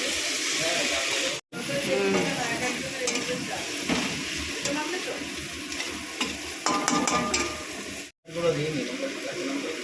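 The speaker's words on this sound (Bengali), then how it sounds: "তো ক্যাপসিকামটা ভাজা হয়ে গেছে এবারে পেঁয়াজটা দেওয়া হয়ে গেছে পেঁয়াজটা ভাজাভাজি হচ্ছে" Onions frying with capsicum in a pan, a steady sizzle with stirring scrapes throughout, broken by two brief silent gaps, with faint talk in the background.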